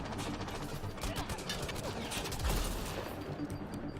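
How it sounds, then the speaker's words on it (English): Rapid bursts of gunfire from a rifle in the video game Mass Effect Andromeda, dense overlapping shots with a heavier impact near the middle, heard close amid game noise. "Sniper rifle works."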